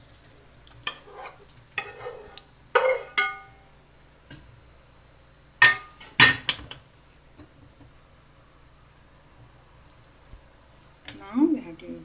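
Paneer cubes go into a thick butter masala gravy and are stirred, with a few scraping and clattering spoon sounds against the pan and soft sizzles between quiet gaps.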